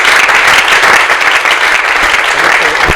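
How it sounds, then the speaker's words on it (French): Loud, dense audience applause at a gathering of comedians and artists in Lubumbashi, close and sustained clapping that fills the whole moment without a break. "vos applaudissements, c'est très fort"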